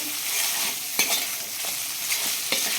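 Prawn fried rice tossed and stir-fried over a high flame makes a continuous, fairly loud hiss and sizzle, broken by repeated scraping and clanking strokes of the ladle.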